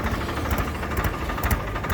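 A Farmtrac 45 tractor engine idles nearby with a steady low, knocking throb and faint vibration, running alone without talk.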